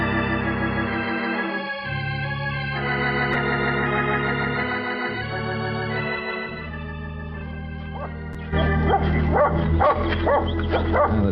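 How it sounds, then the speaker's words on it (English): A dog barks and yips repeatedly against a steady musical backdrop in an old radio drama, with the barking growing louder and busier toward the end. "the dog makes a lot of noise, doesn't he?"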